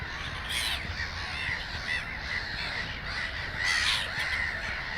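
A large, dense gull colony of over five thousand birds calls continuously in harsh overlapping cries, with louder bursts swelling near the start and again toward the end, and no voices over the din.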